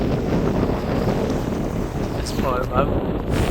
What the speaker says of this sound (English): Here's the wind again.